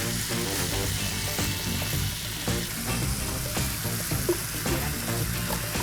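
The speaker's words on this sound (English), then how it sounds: "So in goes our cooked pasta." Cooked pasta and vegan pesto being stirred in a pan, with a steady sizzle and scraping stir sounds running throughout, fairly loud and close.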